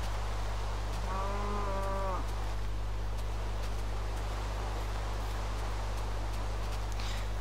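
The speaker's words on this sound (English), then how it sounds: "there's a cow over there" A single cow lets out one drawn-out moo in Minecraft, lasting about a second, set against a steady low hum and faint hiss with no other sounds.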